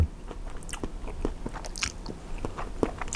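Close, soft chewing of salted pickled Russian fish, with irregular small bites, wet smacks and faint crunches, quiet and without talk.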